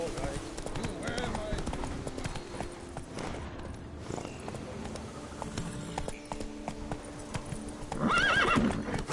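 A horse named Roach trots along in steady clip-clopping hoofbeats, close up, and then lets out a loud, high neigh near the end, with voices underneath.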